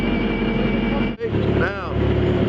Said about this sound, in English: Let's out race him with the motor.